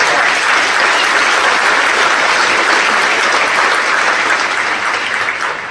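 Loud, steady applause from a large audience at a city address, honoring a port's harbor commissioners, a dense continuous wash of clapping that holds evenly throughout.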